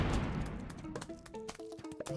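Explosions in Plants vs. Zombies GOTY: a dense, loud burst of blasts and crashes opens, followed by quick popping hits and short musical game tones scattered over a busy backdrop.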